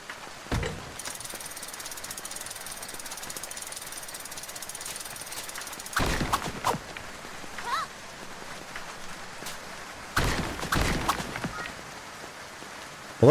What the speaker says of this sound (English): I love the rain ambiance in this too.